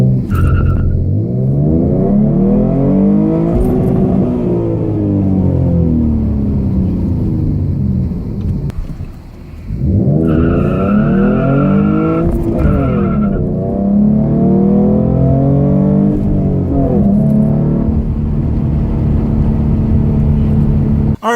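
A tuned Mustang launches hard from a standstill, loud engine revving in rising sweeps as the tires spin and squeal with no traction, dipping briefly between gear pulls before roaring up again.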